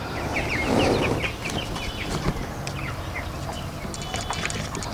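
Broiler chickens on a farm cluck and chirp in a busy, steady chorus, with a brief burst of louder noise near the start and scattered higher calls throughout.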